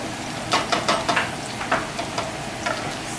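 Garlic dropped into a hot pan of cooking onions sizzles loudly and close, with a run of clinking spoon stirs against the pan over the steady frying hiss and no voices.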